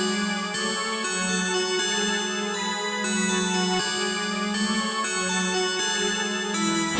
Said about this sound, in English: I found this bell from Expand right here, and I layered this organ sound from Analog Labs underneath it.